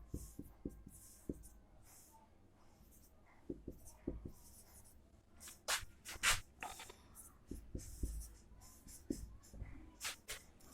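Chalk or marker writing on a board for chemistry notes, a run of scratchy, scraping strokes in bursts with short pauses between them, close and fairly clear.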